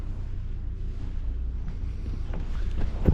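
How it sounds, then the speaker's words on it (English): Sailboat engine warming up before departure on Mexico's Pacific coast, a low steady rumble mixed with wind buffeting the microphone and faint creaks, ending in a short knock. "Engine's warming up and we're almost going to depart."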